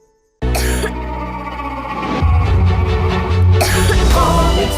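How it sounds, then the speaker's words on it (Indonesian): Harsh, close coughing bursts out loudly, with a rough, throaty second round of coughs following a moment later. "Batuk."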